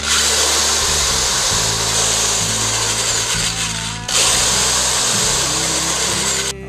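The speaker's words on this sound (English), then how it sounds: "And then I'll flip it and I'll drill from the other side." A power drill boring in from the reverse side of a Stratocaster-style guitar headstock at the tuner holes, a loud, close whirring that shifts pitch under load, briefly stops, then starts again.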